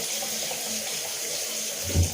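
Cold water runs from a bathroom tap in a steady, fairly quiet hiss for a couple of seconds, with a soft splash or knock near the end and no talking.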